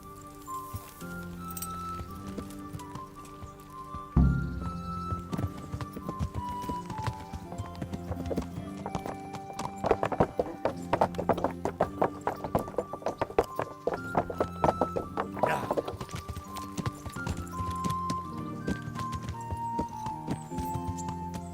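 Horse hooves clip-clopping in the medieval game Kingdom Come: Deliverance, starting with a heavy thud and building into a rapid, steady trot with jingling tack, heard under a soft musical score.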